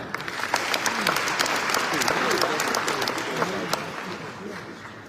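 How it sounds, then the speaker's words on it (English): Steady, dense audience applause fills a forum hall in Tangier, Morocco, continuous broadband clapping at moderate loudness with a murmur of voices beneath it. "I would like you to give the same kind of applause to the Moroccan representative on the stage"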